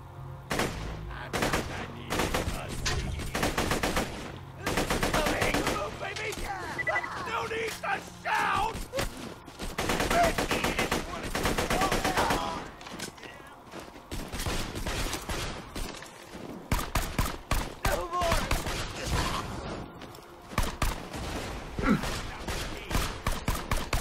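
Borderlands 2 gameplay is full of dense, rapid gunfire: long automatic bursts and scattered single shots, loud and close, broken by brief pauses, with game voices mixed in.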